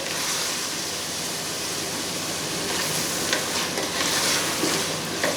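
Potatoes frying with spices and ground dried-mango powder in a pan, a steady close sizzle with light stirring scrapes throughout, no voices.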